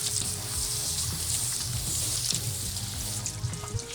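Water poured over car paint test panels coated with graphene and ceramic detailing products, a soft continuous splashing and trickling stream with faint dripping, close and without talk.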